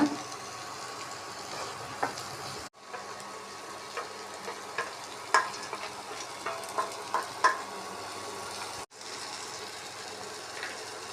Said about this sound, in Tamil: தக்காளி முந்திரி இஞ்சி பூண்டு எல்லாத்தையும் நல்லா வதக்கிக்கணும்